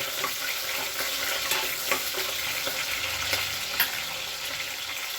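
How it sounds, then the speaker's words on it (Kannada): Mint leaves sauté in a pan with a steady, dense sizzle and occasional soft stirring scrapes, close and continuous throughout. "ಸ್ವಲ್ಪ ಪುದೀನ ಸೊಪ್ಪು, ಸ್ವಲ್ಪ ಬಾಡಿಸ್ತೀನಿ."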